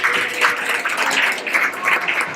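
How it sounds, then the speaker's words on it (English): An audience at a Red Hook community gathering claps in a steady, dense round of applause that swells and eases in waves, fairly close, with no speech over it. "give her a round of applause"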